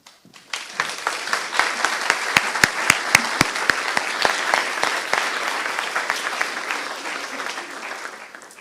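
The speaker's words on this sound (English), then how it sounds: "I am not sure you heard all the clapping" Audience clapping after a keynote talk starts abruptly, with several sharp, distinct hand claps standing out near the microphone over a steady wash of applause that continues evenly and fades slightly at the end.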